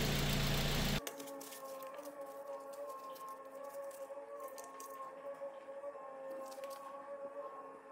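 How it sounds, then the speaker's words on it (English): A Mazda 3 engine runs just after an oil change, opening with a short loud broadband burst at startup, then settling into a quiet, steady idle hum with clear tonal layers and faint mechanical ticks. "Now let's start the engine."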